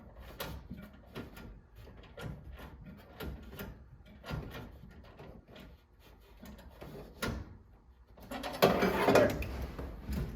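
A ratchet tightens a touchscreen stereo bracket inside the dash of a C10 truck, giving repeated short clicking bursts with pauses between strokes, close up, ending in a louder rattling clatter.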